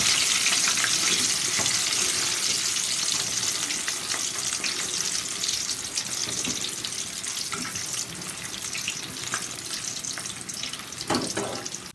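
Butter biscuits frying in hot oil and being stirred with a ladle, a steady loud sizzle running throughout with a few brief clinks of the ladle near the end.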